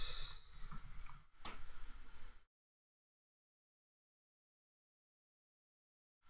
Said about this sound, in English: So I'm going to click on my button here.